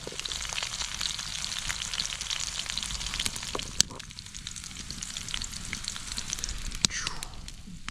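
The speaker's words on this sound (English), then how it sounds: "Ready to just throw it right on the grill and get them sizzling." Loud, steady sizzling and crackling of tortilla pizzas on a campsite grill in the Boundary Waters wilderness, with a few sharp pops and clicks scattered through.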